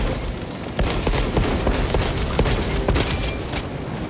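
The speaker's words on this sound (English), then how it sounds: "Northern wall is breached. Concentrate your fire." Dense, continuous gunfire in the Warhammer 40K Space Marine 2 video game, rapid overlapping shots and bursts forming a loud, steady battle din with no talking.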